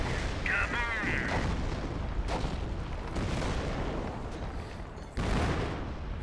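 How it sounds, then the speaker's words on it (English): Ammunition cooking off in Company of Heroes, a loud broad boom around five seconds in, standing out from continuous battlefield rumble and scattered blasts, with game voice lines and talk over the top. "A shot in our side hits the ammo there. See? Kaboom."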